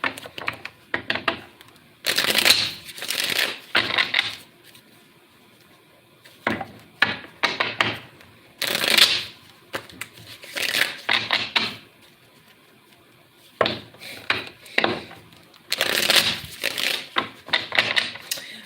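Tarot cards are shuffled by hand in repeated bursts of rapid riffling and flapping, with short quiet gaps between them, close to the microphone and with no talking.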